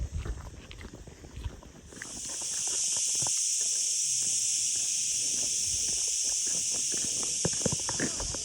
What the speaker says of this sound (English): They call this the summer cicadas.